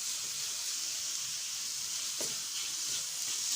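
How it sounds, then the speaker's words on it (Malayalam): Onions sautéing in a pan for Kerala-style chicken peralan, a steady soft sizzle and hiss throughout with a brief stir near the middle, faint and alone without talk. "ഏകദേശം ഈ ഒരു കളറാവുന്ന വരെ സവാള നന്നായി വഴറ്റി കൊടുക്കാം."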